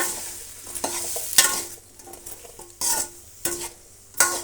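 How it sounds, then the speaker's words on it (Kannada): Cut bitter gourd pieces sautéing in oil, with bursts of crackling sizzle and several scraping stirs, close and moderately loud, no talking. "ಈಗ ನಾವು ಹಾಗಲಕಾಯಿ ಕಟ್ ಮಾಡಿರೋದನ್ನು ಹಾಕೋಣ ಚೆನ್ನಾಗಿ ಬಾಡಿಸ್ಬೇಕಾಗತ್ತೆ ಹಾಗಲಕಾಯಿನ ಆಯಿಲಲ್ಲಿ"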